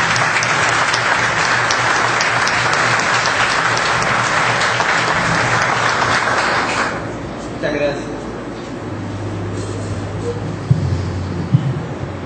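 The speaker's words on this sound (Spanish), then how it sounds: "Vamos a recibirlo en este preciso momento con un fuerte aplauso." An audience claps to welcome a speaker who is about to read a biography of his father. The applause is dense and sustained for about seven seconds and then fades out, and a few faint sounds and a low hum follow.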